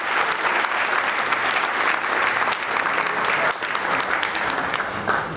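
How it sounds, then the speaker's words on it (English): Loud, dense audience applause at a business awards dinner for a chamber choir of young women, a sustained wash of many hands clapping close by without pause. "How about another round of applause for these lovely ladies?"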